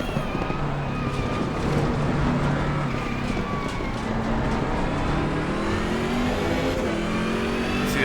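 A BMW M6 GT3 race car in Assetto Corsa Competizione, racing at Spa, roars with a steady, sustained engine note from start to finish, its pitch shifting slightly with throttle, with no voices over it.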